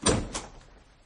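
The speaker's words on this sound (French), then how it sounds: "Il me semble avoir entendu du bruit dans l'antichambre. On a fermé une porte." A door closes in an antechamber with two quick thuds, the first loud and the second softer, then a brief fading tail in a quiet room.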